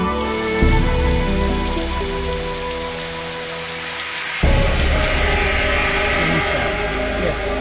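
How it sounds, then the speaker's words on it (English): Steady rain falls in the video game Vampire The Masquerade: Redemption, a constant dense patter that grows louder partway through, with a faint tonal musical layer underneath and no voices. "1 hour rain video coming up."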